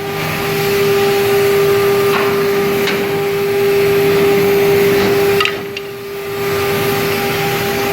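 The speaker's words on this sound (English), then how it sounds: "now I will run the machine again and do some test measurements" A Quick Chop machine runs steadily during test measurements, a loud continuous mechanical hum with a strong tonal whine, interrupted by a few brief clicks and one short dip near the end.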